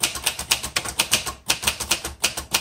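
Typing on a 1960s Singer Professional T-62 typewriter gives a fast, steady run of sharp, close keystroke clacks, with a brief pause midway before the rapid tapping resumes.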